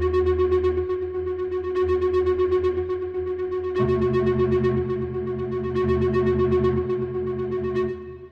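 An aggressive synth sample pitched on B4, built in Melodyne, plays as sustained harmonic tones with a steady low drone, shifting chord texture partway through and fading out near the end; no talking.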